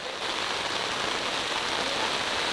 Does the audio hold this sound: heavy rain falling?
yes